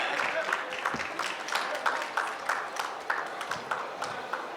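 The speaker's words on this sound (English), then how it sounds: "We can continue with those claps." Audience clapping at a women-in-hospitality panel event in Bengaluru, a spread of scattered, uneven handclaps from a room of people, moderately loud and continuous, with a voice speaking over it.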